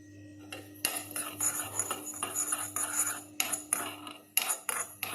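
Fenugreek and mustard seeds dry-roasting in a pan, with a spoon stirring and clinking against the metal in repeated close, uneven taps and scrapes, no voices.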